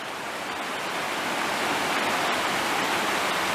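Mill Prong Creek in Shenandoah National Park rushes as a steady, full hiss of flowing water, close and even throughout with no voices.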